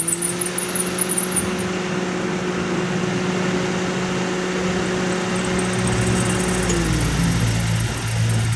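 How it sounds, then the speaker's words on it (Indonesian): A Toyota Avanza engine idles steadily with a smooth, constant hum and tonal drone, close and continuous, then changes pitch near the end as the revs shift, with no talking over it. "Oke, sudah penuh, tinggal kita starter mesinnya"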